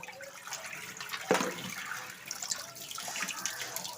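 Potatoes and pointed gourds are rinsed under a running kitchen tap, a steady close splash of water with a sharp clatter and shifting flow as the vegetables are handled.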